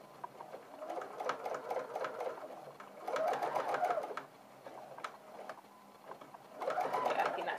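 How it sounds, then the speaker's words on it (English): A sewing machine stitches a narrow hem close to the edge of a 1 cm double fold, running in steady bursts with short pauses between them and no talk over it. "you're sewing quite close to the edge of the fold, of the second fold"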